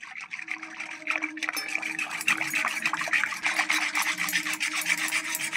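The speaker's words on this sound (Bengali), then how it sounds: "এবার ভালো করে মিশিয়ে নেব" Powdered milk stirred into a sago dessert, a spoon rasping and scraping in quick repeated strokes through thick liquid, close and steady with a wet, gritty texture.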